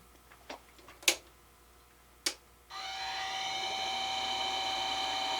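Mini lathe with the tailstock tightened up starts and runs at low speed, a steady whirring motor hum with a fixed whine after a few light clicks and taps, close and moderately loud.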